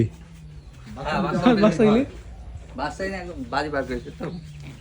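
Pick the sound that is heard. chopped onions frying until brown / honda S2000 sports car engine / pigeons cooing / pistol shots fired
pigeons cooing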